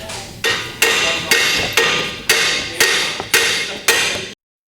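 Seven sharp metallic hammer blows strike a Mazda 3 lower ball joint at a steady rhythm, each ringing briefly before the next, close and loud, then abrupt silence.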